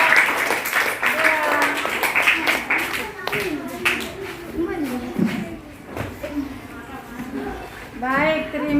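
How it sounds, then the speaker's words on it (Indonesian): Schoolchildren in a classroom clap for a group of classmates, a brisk burst of hand claps at the start that fades while a teacher and children keep talking over it. "tepuk tangan untuk kelompok"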